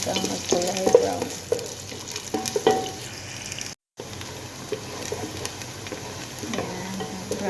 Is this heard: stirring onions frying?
yes